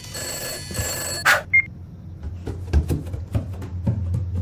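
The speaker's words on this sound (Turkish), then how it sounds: "Telefon çalmaya başladı." A telephone bell in the horror game Summer of '58 rings in a couple of sharp bursts, followed by scattered thuds and knocks inside an abandoned orphanage.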